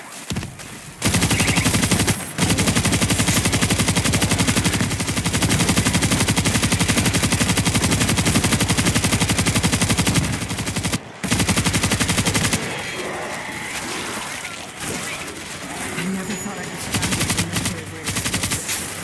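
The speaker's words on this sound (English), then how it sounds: "Auto turret ready to shoot." An auto turret in the video game World War Z: Aftermath fires long continuous bursts of rapid automatic gunfire, loud and sustained, with brief pauses and scattered shots toward the end.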